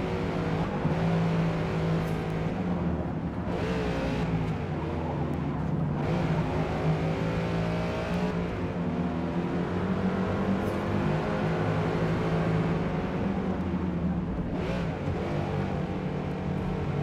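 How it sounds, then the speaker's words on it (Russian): A McLaren engine drones steadily in the Forza Motorsport racing game, with a sustained rising and falling tone and brief swells as it accelerates and shifts, all at constant loudness without talking. "нам дали покататься на Макларене в самом начале, да, Сань?"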